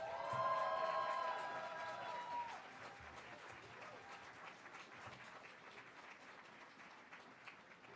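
Welcoming applause from the crowd at the opening ceremony of the MAKKABI Germany Winter Games in Ruhpolding, with a tonal chime at the start, then steady clapping with some cheering that gradually softens.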